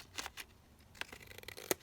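Scissors trimming paper for a craft pocket, a few quiet separate snips and rustles spread over a couple of seconds, no talking.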